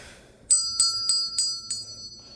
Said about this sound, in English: ring the notification bell for all notifications